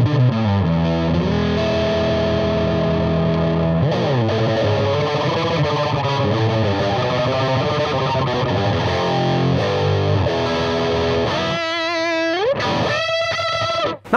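A Sterling by Music Man S.U.B. Axis electric guitar played on its neck pickup, thick warm distorted chords and sliding lead lines sounding loud and continuous, ending in quick bends and a trailing note.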